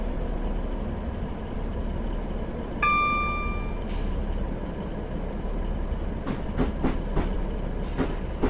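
A Class 150/2 diesel train runs between Liverpool and Manchester in Train Simulator 2015, approaching Warrington Central. A constant low engine and rail rumble carries on throughout, with a brief electronic tone partway through and a run of sharp wheel clicks near the end.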